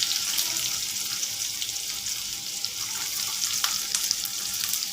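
Ginger and onion frying in a pan with soy sauce and tomato sauce for a masala pasta, giving a steady, dense sizzle that holds even throughout with faint stirring scrapes and no talk.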